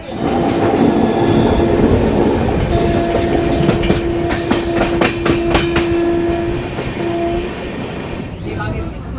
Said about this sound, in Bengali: এই বলতে বলতেই ছেড়ে দিল আমাদের ট্রেন এখান থেকে চিমডিপাল্লি থেকে